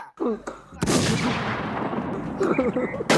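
Gunshots ring out in the online shooter The Crown Warz, a few sharp cracks followed by a loud, sustained burst of firing, with a voice talking over parts of it.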